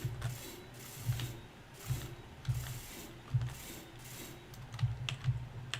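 Blocks are welded in the game Space Engineers, a repeating mechanical ratcheting whir that pulses roughly once a second, moderately loud and with no one talking.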